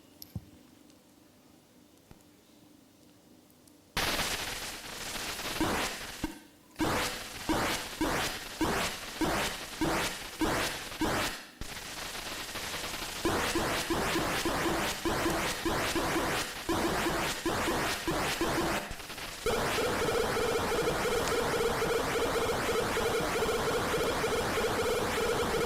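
Atari Kaboom game audio: a quiet opening, then a dense run of rapid repeating blips and crashing noise bursts that grow louder and busier, with no talking.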